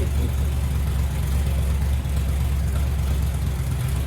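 A 1928 hot rod engine idling low on a quarter tank of last year's gas, barely holding on: a steady, loud, rumbling idle that stays even throughout without revving.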